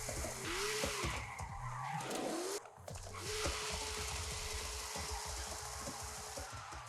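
Car tires squealing and skidding while drifting, with the engine revving and the pitch sliding up and down through long sustained screeches, loud and steady with a short dip midway.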